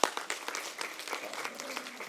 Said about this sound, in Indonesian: ya Anda boleh tepuk tangan.